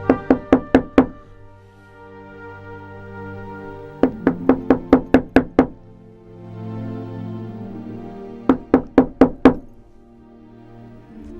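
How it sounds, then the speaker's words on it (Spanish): Knocking on the wooden door of an inn late at night, heard as three separate bursts of about five or six sharp, fast raps each, loud and close, with quiet pauses between them. "Tocó la puerta del mesón."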